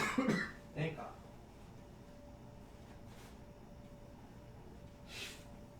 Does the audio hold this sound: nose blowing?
yes